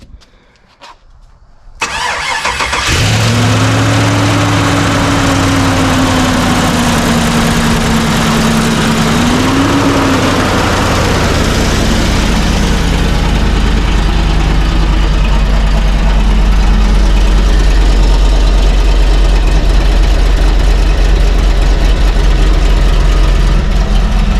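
A 5.3 V8 swapped into an Austin car cranks over with a starter whine, fires up loudly and settles into a steady, rumbling idle with a lumpy small cam, close and continuous with no talking.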